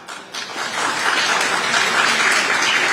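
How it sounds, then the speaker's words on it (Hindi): An audience at a live public talk event breaks into applause, a dense, loud wash of clapping that swells within the first half second and holds steady. "हमारे ख्याल से ताली वो लोग मार रहे हैं जिनको सलाह चाहिए हो"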